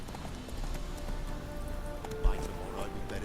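Horse galloping in the video game The Witcher 3: quick rhythmic clip-clop hoofbeats at moderate level under a voice, with a brief thump near the end.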